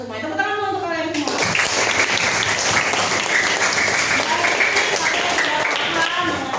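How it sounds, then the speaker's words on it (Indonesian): Schoolchildren in a classroom burst into dense, sustained applause that carries on steadily after a teacher's voice is briefly heard at the start. "Tepuk tangan dulu untuk kalian semua."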